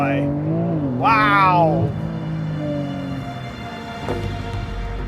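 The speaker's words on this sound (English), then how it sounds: "watch how she launch controls" A 2020 Porsche 911 Carrera S in Sport Plus mode launches hard under launch control, its flat-six engine note climbing in steep, rapid pitch sweeps through the gears, loud and close inside the cabin, with an exclamation over it.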